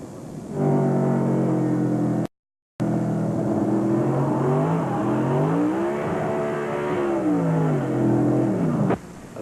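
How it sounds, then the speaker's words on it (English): A 1998 Dodge NASCAR race truck engine wound up to high RPM as the throttle is nailed during a crash spin, a loud onboard roar that climbs and dips in pitch over several seconds, briefly cutting out near the start. "You can hear those RPMs really wind up as Boris nailed the throttle to try to make it do a full 360."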